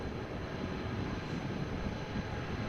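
Airliner landing at Amsterdam Schiphol Airport after rain, a steady, loud broadband engine roar holding evenly throughout with no voices.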